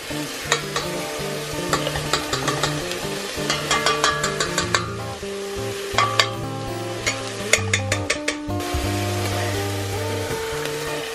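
Onions and minced garlic frying in olive oil for a tomato sauce, heard as a loud, close, steady sizzle with repeated clacking strokes of a utensil stirring the pan, and no talking.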